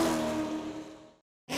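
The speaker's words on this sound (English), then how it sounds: "the best part about racing is the noise, the engine, the pits, and a Kevin Harvic top 10 finish" Race car engines roar loudly and continuously with a revving, passing whoosh, fading out into brief silence before the sound returns sharply at the end.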